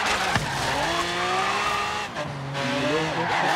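Car tires screeching and squealing continuously over a revving engine in the racing game Forza Horizon 3, with shifting pitch as the car slides, loud and close.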